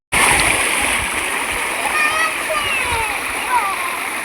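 Shallow, slow-moving river water in rural Abra, Philippines, splashes and babbles steadily and close, with faint voices of children mixed into the constant rush.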